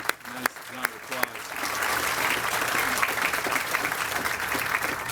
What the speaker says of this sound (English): let's one more time give a nice round of applause.